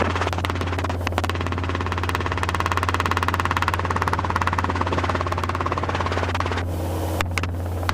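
A Robinson R22 helicopter taking off during a flight lesson: a loud, steady rotor chop and engine drone that beat in a rapid, even rhythm, close by, with a brief change in tone near the end.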